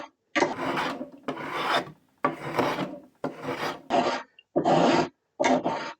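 A woodworking spokeshave shaves wood in seven close, crisp rasping strokes, each about half a second long and separated by short silent gaps.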